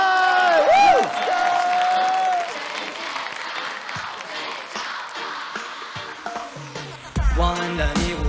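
A studio audience at a dance-show Mid-Autumn gala breaks into cheering and applause, a dense crowd roar that starts loud over a sustained sung note and music, then continues beneath a voice and instrumental sounds.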